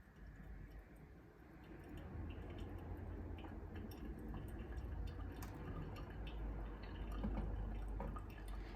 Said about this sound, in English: Pouring in gentle concentric circles from the inside out, we are going to add 140 grams to our brew